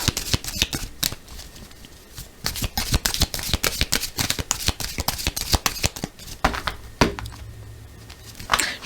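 Oracle cards are shuffled for a reading, giving rapid, rhythmic riffling and slapping of the deck that repeats steadily and close up for several seconds, with no voices.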